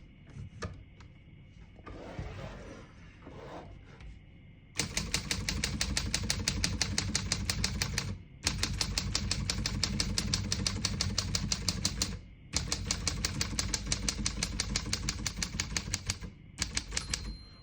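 Rapid, steady clacking of a 1946 Smith-Corona Sterling manual portable typewriter in long bursts, separated by short pauses, close and loud after a quieter stretch of rustling at the start.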